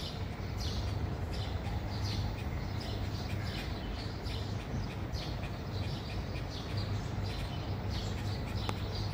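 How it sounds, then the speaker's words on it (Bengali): Birds chirp in the early morning, with scattered faint calls and tweets repeating over steady outdoor background noise and a low hum, no one speaking. "এই টাইমটাতে পাখির কিচিরমিচির আওয়াজ আর স্নিগ্ধ একটা বাতাস"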